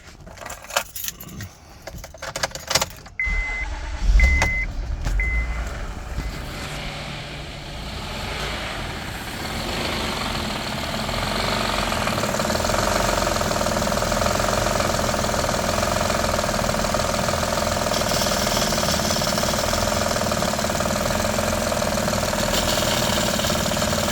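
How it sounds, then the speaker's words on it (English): Car keys jangle, then a push-button start brings the engine to life before an intake valve cleaning. It catches with a few rough bursts and settles into a steady, fairly loud idle that grows fuller and continues to the end. "Start the vehicle."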